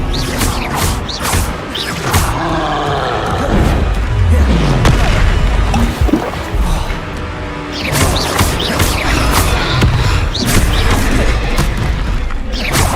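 Magic blasts and fiery Confringo explosions boom repeatedly during combat in Hogwarts Legacy, loud, dense impacts and crashes layered with clanking effects, while a voice calls out between the bursts.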